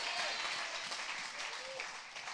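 A church congregation claps together, a soft, continuous wash of many hands heard at a distance, steady and fairly faint for the couple of seconds.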